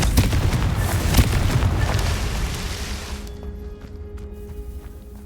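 A Confringo blasting spell from Hogwarts Legacy goes off as a loud, rumbling boom with sharp crackling bursts, swelling for the first three seconds before dying into a quieter, low hum.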